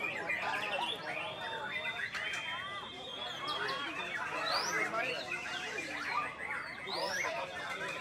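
Songbirds sing at a bird singing contest, a dense, continuous mass of overlapping chirps, trills and whistles from several birds, with crowd chatter in the background.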